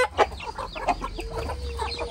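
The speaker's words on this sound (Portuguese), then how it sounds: "É hora de dar comida pras galinhas." Several chickens clucking busily up close at feeding time on a family farm, a quick run of overlapping clucks and short calls filling the whole moment.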